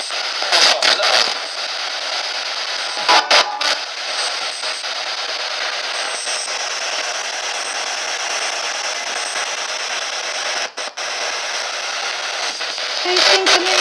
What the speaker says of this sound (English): I've got the spirit box out now, so you can use the white noise to talk to us